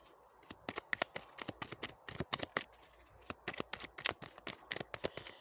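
Close, crisp riffle-shuffling of Osho tarot cards, with quick bursts of papery slaps that repeat steadily throughout and no talk.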